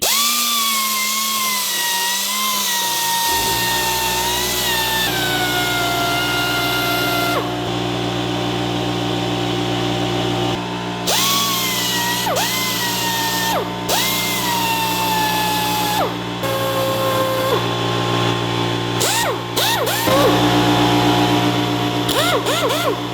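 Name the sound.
small air-powered grinder grinding, run off a compressor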